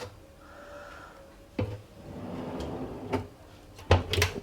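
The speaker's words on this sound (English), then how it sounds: "Handy little drawer." A small drawer in the cabin of a Jeanneau 65 yacht slides open and shut, with a sharp clack near the middle and a couple of firmer knocks toward the end, fairly quiet and close, no talking.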